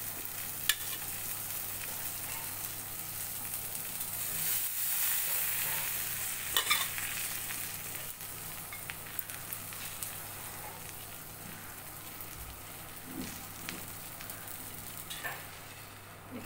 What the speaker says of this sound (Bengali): আমার গোবিন্দভোগ ধোয়া চালটাও এর মধ্যে দিয়ে দিলাম